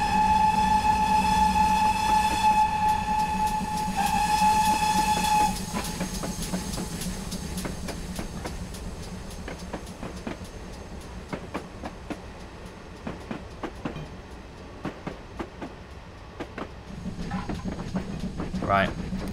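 GWR Hall 4900 Class steam locomotive on the Falmouth Branch Line in Train Simulator: a sustained whistle for the first few seconds, then steady rhythmic chuffing and clattering wheels as the train runs on, with a rising hiss near the end.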